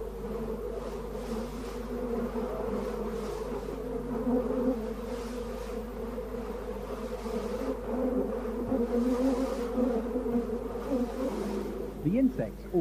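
A honeybee colony buzzes steadily during a hive inspection after transport, a dense, continuous drone of many bees that holds close and even from start to finish, with a few faint handling noises near the end.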